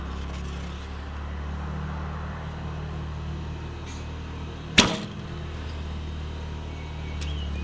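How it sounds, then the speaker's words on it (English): Topoint Unison recurve bow loosed at a target two meters away outdoors: one short, fairly quiet thwack of the string and arrow impact midway, close, over steady background hum and low outdoor noise. "Now I'm shooting really close, 2 meters away from the target."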